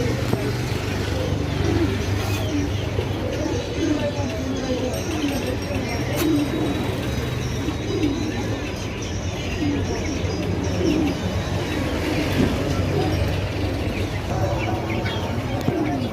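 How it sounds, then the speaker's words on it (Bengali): Pigeons coo and flutter at the busy Babur Hat market in Chandpur, their soft calls blending with continuous crowd murmur, nearby voices and passing traffic. "কবুতর এবং ফুল অ্যাক্টিভ"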